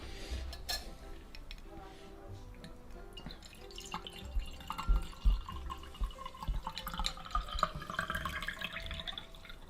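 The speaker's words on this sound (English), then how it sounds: "So get it straight in now and just pour into your glass." Liquid trickles and drips into a sugar-rimmed glass as a Grinch mocktail is poured, with light clinks of glassware. The pour is quiet and close, and no one talks over it.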